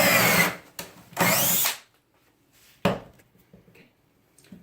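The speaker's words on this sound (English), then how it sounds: "Just position your drill into the slot there." A power drill bores pocket holes in a wooden board through a Kreg jig. Loud, close bursts of high whirring stop and start, followed by a few faint handling knocks in a quiet room.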